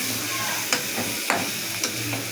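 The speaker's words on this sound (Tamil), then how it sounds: "நல்லா வதக்குங்க ஃப்ரெண்ட்ஸ், அப்போ தான் ஒழுங்காக வரும்" Ingredients sauté in a hot pan, giving a continuous sizzling hiss broken by three or four distinct scrapes of a spoon stirring through them, close and fairly loud.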